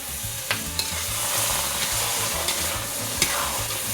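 Food sizzles and crackles in a hot frying pan while a utensil stirs with a few scraping knocks. No one speaks.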